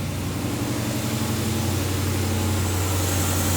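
A 2017 Ram 2500 with the 6.4 engine idles steadily after start-up, a continuous low droning hum with no voices.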